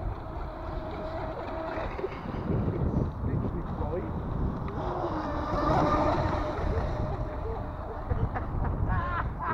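Electric RC boat with a new 60A Helion Rivos brushless ESC on a 2-cell battery, running at full throttle on water: a steady motor whine and splashing hull noise under wind, with people talking over it.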